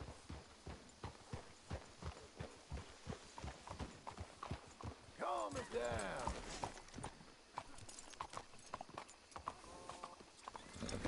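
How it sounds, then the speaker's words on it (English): Horses' hooves clip-clop steadily in Red Dead Redemption 2, a regular walking rhythm with a neigh partway through. Someone speaks briefly over the hoofbeats. "Let's hitch the horses up ahead."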